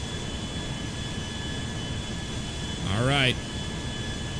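Boeing 737-800 jet engines in a GTA 5 game flight, with the right engine smoking and the airliner buckling: a steady broadband jet roar holds throughout, swelling slightly near the end while a voice speaks briefly over it.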